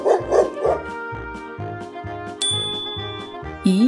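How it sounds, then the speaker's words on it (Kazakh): A dog gives three quick barks at the start, followed by a run of bright chiming musical tones with no talking. "Ит."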